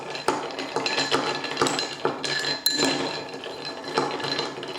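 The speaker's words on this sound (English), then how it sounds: "Right, so you stir that down." A whiskey Old Fashioned made with Tincup Colorado whiskey is stirred in a glass, giving a steady series of light clinks and taps of spoon on glass, close up, with no talking.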